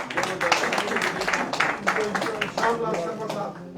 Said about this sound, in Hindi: जिला प्रधान जी विनय जी, शाबाश, तालियों से स्वागत